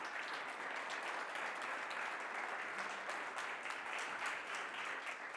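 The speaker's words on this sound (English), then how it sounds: "A big applause for him" Audience applause at an AI startup accelerator demo day greets Dr. Andreas Weber as he comes on stage, heard as a steady, even patter of many hands, somewhat distant and without speech.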